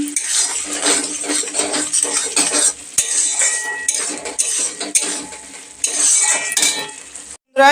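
Spice masala for aloo dum is stirred and sautéed in a pan: a metal spoon scrapes and clinks against the pan over a steady close sizzle, with a few short pauses.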